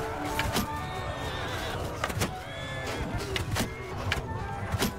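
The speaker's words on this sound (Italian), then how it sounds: "ci sono troppi cavalli qua" Horses neighing and whinnying in a chaotic castle assault in Mount and Blade 2 Bannerlord, several sharp whinnies rising over a constant din of battle noise, with hoof clatter mixed in.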